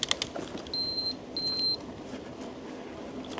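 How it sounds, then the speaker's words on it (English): A cycle GPS unit on a bike ride gives two clear, high electronic beeps in quick succession, bright and close over faint rolling background noise. "that beep beep, that's the cycle GPS"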